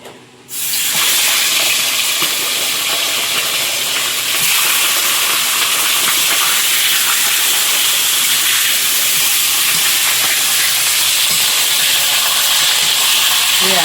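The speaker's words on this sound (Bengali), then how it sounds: "এদিকে মাছের মাথাটা ভাজবো" A hilsa fish head fries in hot oil on a clay stove, a loud, close, steady hiss and crackle that begins suddenly and continues unbroken.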